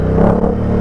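Ducati Diavel 1260 motorcycle accelerating, a loud close twin-cylinder growl rising briefly with a rough pulsing rumble and slight crackle, no voices over it.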